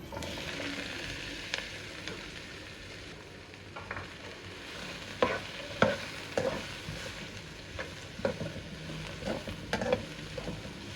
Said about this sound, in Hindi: इसमें 5 कटे हुए प्याज डालकर इनको थोड़ा सोते कर लें।